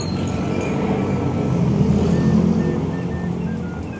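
Steady roadway traffic along a busy highway, a continuous low rumble of passing cars and heavier vehicles heard up close while walking, with no talk over it.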